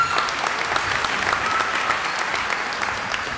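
Warm applause from a crowd at a community college commencement ceremony, steady clapping for a few seconds at moderate volume, with no speech over it.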